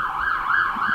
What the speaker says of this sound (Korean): 소방차네. 지나갔어.